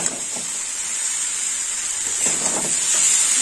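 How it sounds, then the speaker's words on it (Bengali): Fried shrimp and potatoes sizzle steadily in a pan as they are stir-fried together, a continuous hiss at even loudness with light stirring scrapes, no talk. "দিয়ে দিলাম ভেজে রাখা চিংড়ি মাছ আর আলু। সবকিছু একসঙ্গে কষে নেব।"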